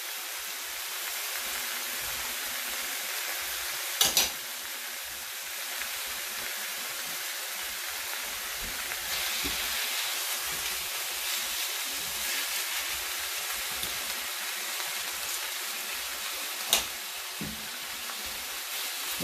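Tofu fries in a pan with a steady, soft sizzle that runs throughout, with a couple of sharp clinks from the pan or utensil along the way.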